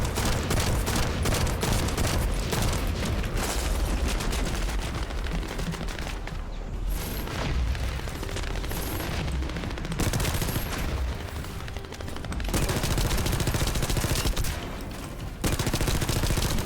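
Sustained SMG fire in The First Descendant, a loud, near-continuous rattle of rapid shots with only brief pauses, heavy and dense throughout.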